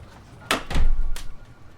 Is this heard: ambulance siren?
no